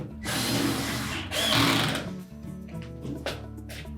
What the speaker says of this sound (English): now we'll secure it with the screws up through the front panel into the main top